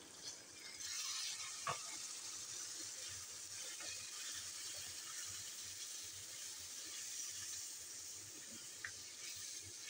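Water sizzling and hissing in a hot pan of spices and two or three finely chopped green chillies, a steady broadband sizzle with faint crackles and pops throughout.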